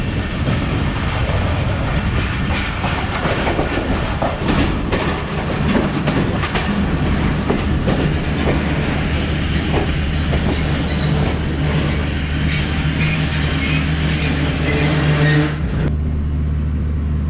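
Pakistan Express passenger train pulling out of Shorkot junction, its wheels rumbling steadily over the rails with clicking joints and a faint high squeal, loud and continuous throughout with no talk.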